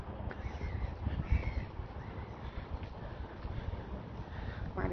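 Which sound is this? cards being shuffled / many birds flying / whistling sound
many birds flying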